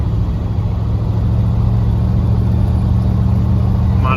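Ford F-100 truck heard from inside while driving, a steady loud low engine rumble and road drone at constant speed with no talking.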